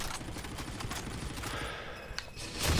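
Rapid automatic turret gunfire in Call of Duty: Infinite Warfare, a dense rattling burst of shots that runs steadily through the whole moment with no voices.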